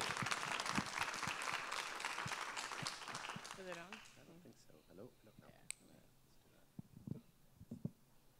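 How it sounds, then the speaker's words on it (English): A library audience applauds a novelist at a reading, a dense burst of clapping that fades out midway, followed by quiet room sounds, a voice and a few scattered clicks. "So please, round of applause."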